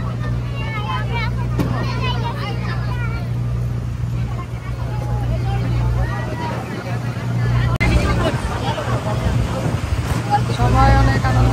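Boat ride on a picnic outing, with a steady low engine drone and wind buffeting throughout while a group of people chatter and talk nearby.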